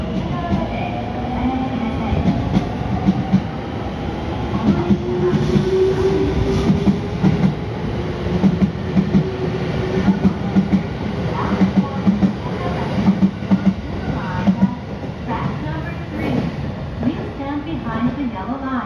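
A JR 313 series train departs a platform at Nagoya station, its steady rumble and rhythmic wheel clatter filling the whole stretch, with station announcements and voices heard over it.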